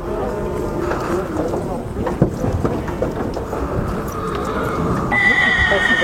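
A horse neighs at a livestock market amid busy crowd chatter and bustle, with a whinny rising through the noise around the middle, a person talking nearby.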